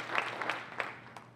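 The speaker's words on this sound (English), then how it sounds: "And you can clap for that." An audience claps at a Science of Reading summit in Northeast Ohio, a brief scattered patter of applause that fades out within about a second.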